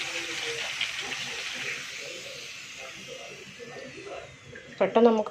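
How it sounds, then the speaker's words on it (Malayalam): Homemade pappadam frying in hot oil gives a steady, close hiss throughout, with a voice coming in briefly near the end. "നമ്മുടെ പപ്പടം നന്നായി പൊരിഞ്ഞ് വരുന്നുണ്ട്."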